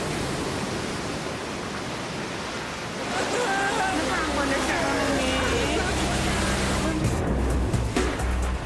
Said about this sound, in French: Les vagues sont grosses, très grosses, et elles paraissent sans fin.